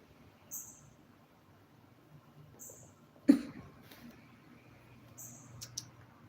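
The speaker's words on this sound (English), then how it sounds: "I try not to cough." A woman lets out a single sharp cough in a quiet indoor room, with only faint clicks and soft rustling before and after it.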